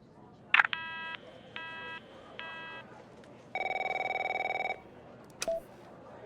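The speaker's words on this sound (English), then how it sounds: "My phone's ringing off the hook here." A desk telephone in the game The Operator rings in short repeated electronic bursts, followed by a longer tone and a click, loud and close with no voices.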